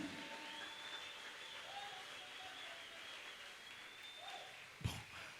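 Church congregation applauding at a Sunday Christmas service, a steady, even wash of clapping that fills the room throughout, with a sharp thump near the end.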